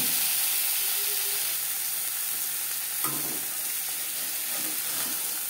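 Potato french fries sizzle in hot oil, a steady dense crackle throughout, with a brief clink of a utensil partway through and no talking.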